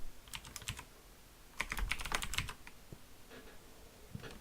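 Fingers tap out bursts of keystrokes on a computer keyboard, quick clustered clicks with short pauses between runs, close and clear with no voices.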